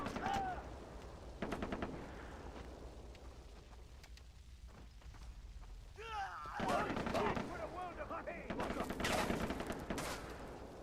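Kalashnikov rifle fire in the video game Far Cry 3, with scattered bursts and rapid volleys of shots, some with echoing tails, loud in the foreground with a voice speaking in places.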